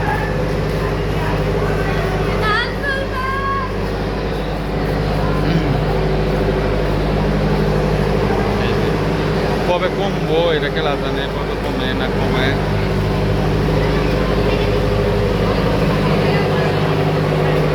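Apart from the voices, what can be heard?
train and vehicle noise at Kamalapur station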